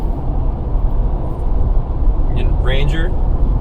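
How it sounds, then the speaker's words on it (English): Steady low road rumble and engine drone inside a small Ford Ranger work pickup cruising on a highway, continuous and fairly loud throughout, with a few faint higher tones near the end. "But I'm in a truck driving on a highway."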